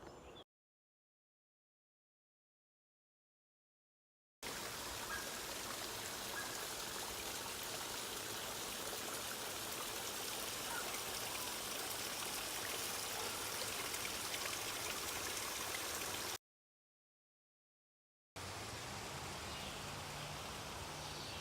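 The James River flows beside the Appalachian Trail as a steady, even rushing wash of moving water, cut by two stretches of silence, with no voices.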